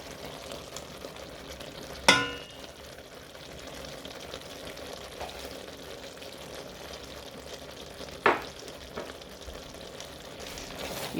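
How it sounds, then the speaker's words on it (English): An eggplant and yogurt stew cooks slowly on low heat, a faint, soft bubbling simmer with two sharp clinks of a spoon against the pot, close and quiet, no talking. "You go on and mix and allow this to also cook on slow heat"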